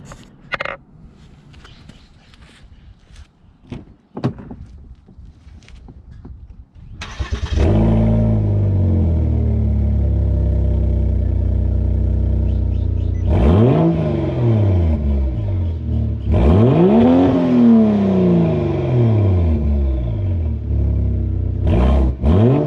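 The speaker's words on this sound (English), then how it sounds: "let's start the car up so you guys can hear how it sounds without the muffler" A Volvo S60 T6 with an IPD exhaust and muffler delete starts after some handling noises, then settles into a loud, deep idle broken by several sharp revs that climb and fall back, close by.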